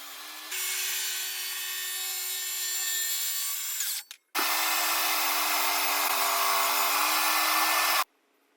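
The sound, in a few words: power saw ripping wood boards to size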